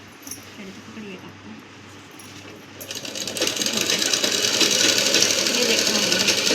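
A sewing machine stitches buckram, a stiff interfacing, straight onto a sari fabric, its steady motor whir starting up partway through and continuing loud to the end.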